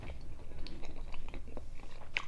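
Close-up crunching as someone bites into and chews a fresh banh mi sandwich with crunchy pickled vegetables, hoisin and sriracha; irregular crisp crackles sound over steady chewing, with no talking.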